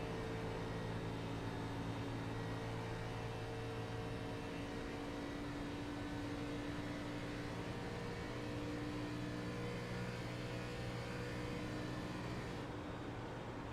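An ARCA race car engine at Michigan in a sim racing game drones steadily with sustained tonal whine and hum throughout, continuous and moderately distant, no talk over it.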